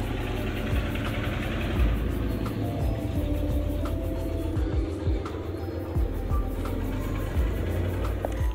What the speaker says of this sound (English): there's a truck that's loud out here